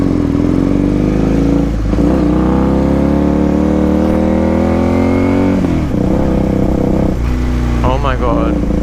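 A motorbike engine runs and revs loudly and steadily instead of settling to idle, with a rider talking over it.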